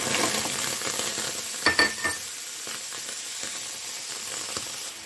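Grated ginger and jaggery roasting in a pan over low heat, a steady close sizzle with a few clinks of a spoon stirring against the metal and no voices.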